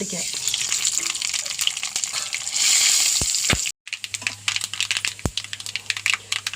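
Mustard seeds crackle and sizzle in hot oil in a pan after papadums are fried, a dense steady hiss with sharp pops, briefly cut off and then resuming, with a low hum underneath.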